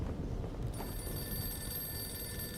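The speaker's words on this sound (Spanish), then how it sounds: "Teléfono." Telephone ringing in the noir detective video game Blues and Bullets, a steady electronic ring with sustained tones carrying over a low rumbling background throughout.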